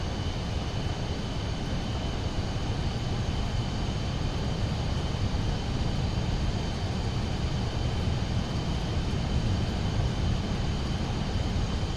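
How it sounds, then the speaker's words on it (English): A Pilatus PC-24 jet taking off from a turf strip in MSFS 2024, a steady loud engine roar and rushing rumble with a constant high whine, unbroken and close, with no talk. "Now, let's get that PC-24 soaring properly, and leave the turf behind."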